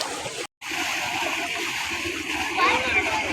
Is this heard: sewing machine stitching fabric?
no